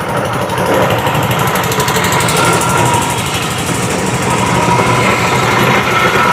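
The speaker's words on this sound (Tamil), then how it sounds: "பக்கத்தில் போனோன்னா ரொம்ப இன்ஜின் சத்தம் மட்டும் அதிகமாக கேட்கும்" A fishing boat's engine runs continuously and loudly nearby, a fast, even mechanical chugging that holds steady throughout with no talking over it.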